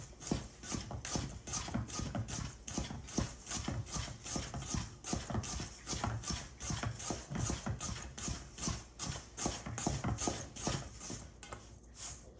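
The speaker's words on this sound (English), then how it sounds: "we're going to work that butter into the dough" Butter being worked into babka dough, with repeated slapping and squishing knead strokes in a steady rhythm, close and moderately loud throughout with no talk.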